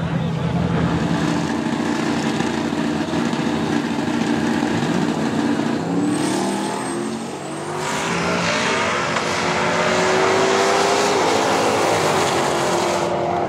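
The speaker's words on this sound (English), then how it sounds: "The Chevy Camaro and the Ford Mustang roll up here on the line." A Chevy Camaro and a Ford Mustang roar loudly in a heads-up drag race. The engines rev and climb in pitch before a brief dip and a renewed surge, with an announcer's voice running over them.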